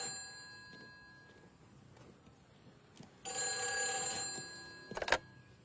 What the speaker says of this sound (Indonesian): Angkat telepon.